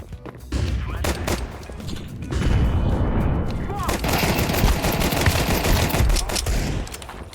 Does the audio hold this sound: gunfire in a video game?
yes